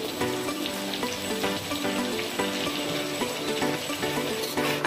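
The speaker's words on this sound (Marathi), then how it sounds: "आता हे छानपैकी वांगे आणि बटाटे बघा तेलामध्ये छानपैकी असे 2 मिनिटसाठी चांगले फ्राय करून घ्यायचे" Brinjal and potatoes frying in oil give a loud, dense, crackling sizzle with bubbling spatter and occasional scraping stirs, heard up close and continuous.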